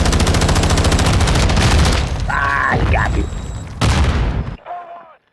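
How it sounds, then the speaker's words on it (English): A rocket launcher blast in a Call of Duty game mode, heard amid dense, rapid gunfire and heavy booms, with a brief lull before another loud burst and a fading tail. "Got me with a freaking rocket launcher?"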